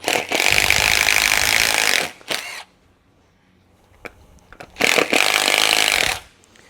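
Step drill bit boring out a hole in a plastic bump stop during an airbag suspension install: two bursts of loud power-drill whine, each about a second and a half long, separated by a quiet pause with small clicks.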